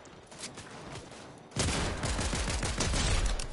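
Gunfire in Fortnite, a sudden run of loud, rapid shots that begins halfway through and keeps going steadily to the end, after a quieter stretch of game noise.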